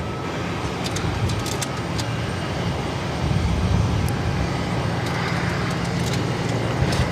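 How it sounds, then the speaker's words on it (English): An Emirates Boeing 777-300ER arriving at Boston Logan from Dubai, with a steady broadband jet roar at moderate distance that swells slightly midway, mixed with faint background traffic. "There it is, the Emirates 777 at 300 ER coming up from Dubai."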